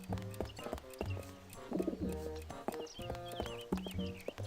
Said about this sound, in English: I hear a pigeon.